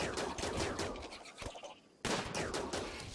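Gunfire in the video game RimWorld: loud, dense bursts of rapid shots crackle for about a second and a half, break off into a short lull, then erupt again just as fiercely.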